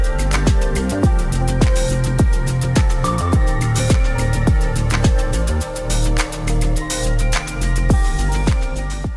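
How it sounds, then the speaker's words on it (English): Steady four-on-the-floor house groove with a thumping kick, crisp hi-hats and warm synth chords, looping evenly throughout. "Today we are making kind of a summer evening cool house track."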